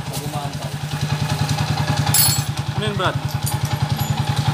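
A noisy motorcycle engine runs with a loud, steady, rapid pulsing idle and rough mechanical clatter, close by, while someone briefly talks over it.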